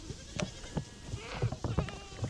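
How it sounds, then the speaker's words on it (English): Goats and sheep bleat repeatedly on a farm, several overlapping calls close by in quick succession, excited as they wait to be let in. "So that's all the goats."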